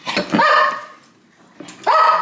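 A dog gives two drawn-out, yelping barks separated by a short pause, close and loud.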